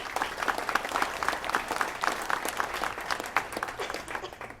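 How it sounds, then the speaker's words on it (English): An audience at a city luncheon applauds with dense, steady clapping from many hands that fills the room at moderate distance and fades slightly toward the end. "We can give them a round of applause,"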